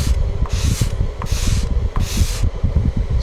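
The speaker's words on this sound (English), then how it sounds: "I'm just going to gently pull and sand on the sandpaper" Laser-cut model rocket fins for an Estes Mean Machine rubbed back and forth on sandpaper, a close, rhythmic rasping in strokes of about three-quarters of a second, steady and loud.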